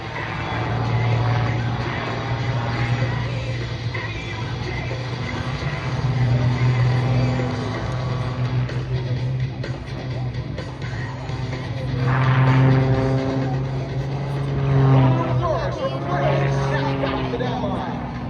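A big Lycoming AIO-540-powered aerobatic airplane drones overhead at an air show, its engine tone rising and falling as it passes, steady and fairly loud beneath an announcer talking.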